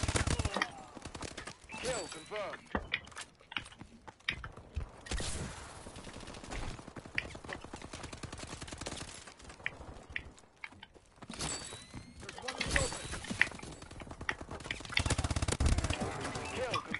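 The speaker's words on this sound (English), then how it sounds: "Some gunfire." Rapid gunfire bursts in Call of Duty Advanced Warfare, dense and loud in stretches, with intermittent talk over the action.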